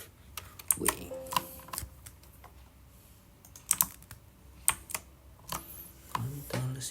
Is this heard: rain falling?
no